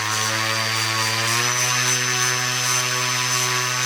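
A propeller motor spun up on a balancing rig, its steady loud drone with strong harmonic whine rising in pitch partway through as it speeds up, then holding at the higher speed without any talk.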